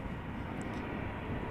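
The engines of a Delta Airlines Airbus A350-900 XWB spool up at Amsterdam Schiphol Airport, a steady broadband roar that holds at an even level throughout, with no voices.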